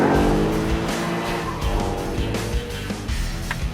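A car skids on a race track in Beverly Hills, giving a loud, close and continuous roar of engine and tyre noise with no talk.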